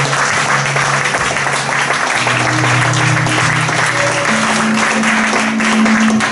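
A church congregation applauds for Jesus in sustained, even clapping throughout, with a steady held musical tone beneath.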